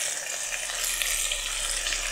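Steady, loud sizzling of squid frying in a hot pan, a continuous crackling hiss with no talking.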